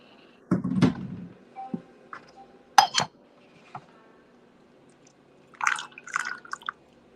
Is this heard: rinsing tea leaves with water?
yes